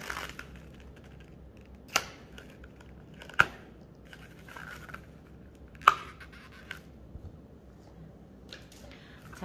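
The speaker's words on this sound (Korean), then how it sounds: "그런 다음 가위로 깔끔하게 마무리해 줍니다." Three or four sharp, crisp scissor snips trimming balloon ends, spaced a second or two apart, over a quiet room background.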